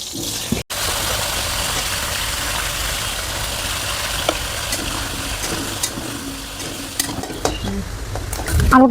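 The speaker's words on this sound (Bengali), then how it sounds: "এখন আলুটা ভেজে নেব।" Cut potatoes fry in hot oil for a Bangladeshi-style chicken biryani, a steady, loud, close sizzle running throughout, with occasional stirring clatter.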